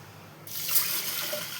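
Running water from a tap gushes on suddenly after a quiet start, splashing steadily as rice and toor dal are rinsed beneath it.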